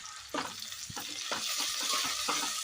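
Vegetable biryani ingredients frying in a pan, a close hissing sizzle broken by several soft stirring scrapes, with no voices.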